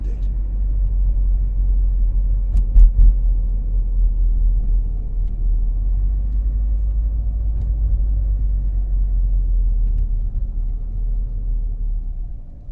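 A car drives through the town center of Paphos, Cyprus, a steady low engine and road rumble heard from inside, loud and continuous with a couple of brief knocks.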